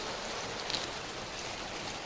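Heavy monsoon rain falling steadily over village fields, a dense continuous hiss of drops on surfaces, close and even throughout with no talk.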